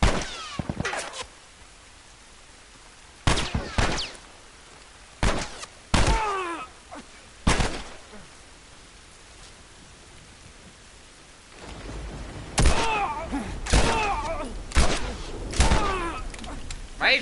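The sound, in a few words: gunfire in the video game The Last of Us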